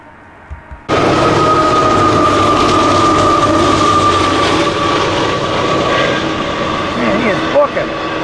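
A CSX or CP freight train rolls by in snowfall, starting abruptly after a short quiet lead-in and then holding a loud, steady rumble and rail squeal for about seven seconds, with voices faintly present.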